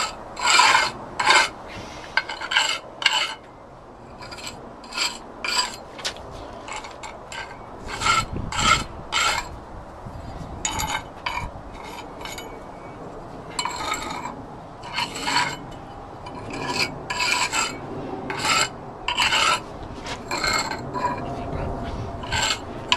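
An iron tool strikes off jointing compound between paving stones outdoors. The scraping strokes are short and irregular, with quieter gaps between bursts.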